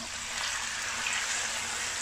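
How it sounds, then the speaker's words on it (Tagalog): Water is added to a cooking pan holding meat with soy sauce and star anise, a steady broadband pour that runs evenly for two seconds with no voices over it. "Just add certain amount of water."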